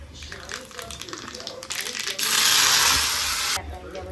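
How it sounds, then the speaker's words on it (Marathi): Kitchen mixer grinder blending chutney ingredients including ginger and garlic, a harsh whirring burst that swells loud for about a second and a half after some clatter, then stops. "याला मिक्सरला वाटून घेऊया."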